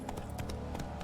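Horse hooves galloping in The Witcher 3, a quick steady clip-clop rhythm of several hoof strikes, fairly faint and close.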